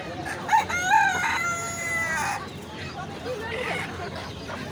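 A rooster crows at a busy village poultry market selling chickens and ducks, a close, loud call standing out over crowd murmur and clucking, with people talking around it.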